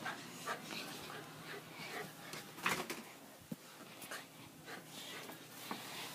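A dog pants and whimpers close by in quiet, uneven bursts of breathy huffs and small whines, with a voice speaking briefly in between.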